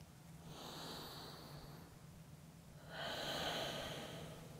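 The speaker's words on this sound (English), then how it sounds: "Breathing slow and controlled in and out of the nose." Slow, controlled nasal breathing during a full-body strength workout: one long, faint inhale followed by a pause and then a fuller exhale through the nose, close and quiet with no talking.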